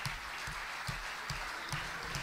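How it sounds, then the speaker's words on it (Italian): Applause at a political meeting of the Sinistra Ecologia e Libertà party, a faint, distant wash of clapping with regular low thumps recurring about every half second. "credo che questo applauso vada dedicato a tutte le militanti"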